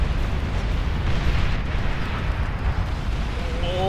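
Nuclear missile explosion in Beyond All Reason, a loud rolling deep rumble that sustains for several seconds, dense and booming, with a faint rising tone near the end.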